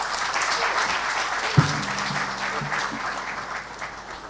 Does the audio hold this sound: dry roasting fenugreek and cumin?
no